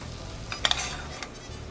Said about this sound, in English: We're gonna saute it up a little